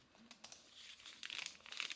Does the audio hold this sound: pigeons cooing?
no